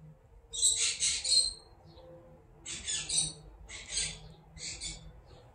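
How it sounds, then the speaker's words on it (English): Birds calling outdoors in short bursts of high chirping and twittering, four or five separate clusters over a faint steady background. "These birds."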